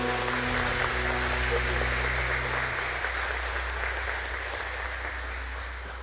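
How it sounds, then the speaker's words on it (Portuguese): Congregation applauding at a Baptist church service in Jundiaí, Brazil: dense, sustained clapping with a constant hiss-like texture, steady and slowly fading, mixed with a low hum in the room. "Pode aplaudir o Senhor, viu?"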